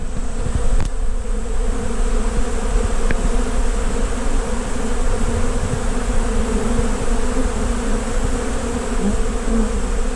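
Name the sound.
honey bees buzzing at an open feeder tote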